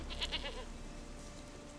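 Goat bleats from the video game Witcher 3: Wild Hunt, a few short nasal cries close together at the start, then fading into quiet in-game ambience.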